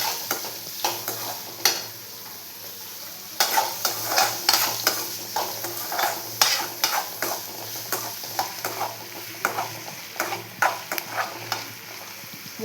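Sliced onions with curry leaves fry in a pan for a beetroot egg poriyal, giving a steady sizzle broken by repeated scraping stirs at an uneven rhythm, close and moderately loud with no talking.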